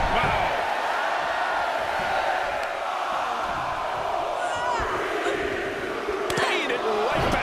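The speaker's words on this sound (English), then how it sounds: "Listen to this crowd count the next one." A dense, roaring arena crowd in the WWE 2K22 wrestling game during a Women's Royal Rumble match, a steady wall of cheering that surges and swells without a break for the whole stretch.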